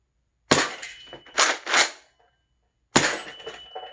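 A Nerf Ultra 3 blaster loaded with Whistler darts fires at a rival target that dings on impact: sharp, close bursts at about half a second, a quick pair near 1.5 seconds, and another near the end, with silence between them.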